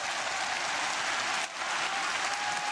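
Dense, steady applause from a large arena crowd at a kickboxing fight fills the space, loud and continuous with a brief dip midway.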